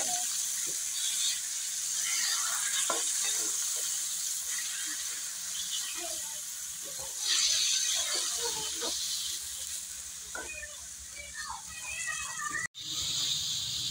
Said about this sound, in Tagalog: Gisa-gisa ulit.